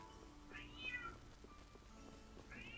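A cat meows faintly in the background behind a Tales of Vesperia Definitive Edition game stream, two rising-falling calls a couple of seconds apart over quiet game sound.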